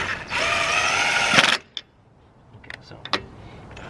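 A ratchet tightens the lug nuts on a Kenda Load Star trailer tire, giving a continuous close ratcheting rattle for about a second and a half, then a few separate metallic clicks and taps.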